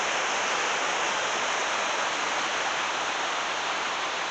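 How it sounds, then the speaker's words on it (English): A river rushes in a constant, loud, broadband wash of flowing water, steady from start to finish with no voices. "Looking up the river this morning."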